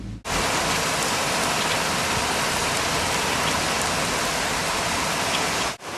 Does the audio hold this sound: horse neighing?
no